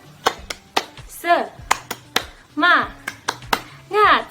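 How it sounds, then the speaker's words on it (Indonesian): An Indonesian elementary class follows their teacher in a rhythmic clapping chant, crisp group claps in a steady pattern broken by short shouted chant syllables from the children. "Kita tepuk semangat dulu ya."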